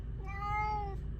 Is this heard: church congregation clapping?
no